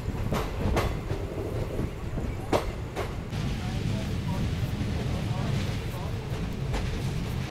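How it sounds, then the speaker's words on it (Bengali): A train rolls into Dum Dum Junction railway station, rumbling and rattling steadily with rhythmic wheel clacks heard from on board. "এখন আমার ট্রেন ঢুকছে দমদম জংশন রেলওয়ে স্টেশন"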